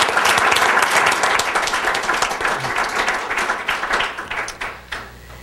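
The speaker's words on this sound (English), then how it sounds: "Round of applause for that." An audience at an Illinois agricultural education event breaks into full applause. Dense, loud clapping fills the room and thins out toward the end.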